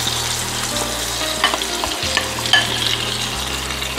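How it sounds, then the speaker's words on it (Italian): Tomato sauce hits tuna frying in a pan, setting off a steady, close sizzle with occasional stirring scrapes and small crackles throughout. "Posso riaggiungere la salsa di pomodoro."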